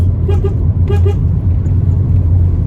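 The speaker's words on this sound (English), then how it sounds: "you're supposed to sound your horn on the approach to it" Four short car horn toots, in two quick pairs, sound loudly over a steady low engine rumble inside the vehicle.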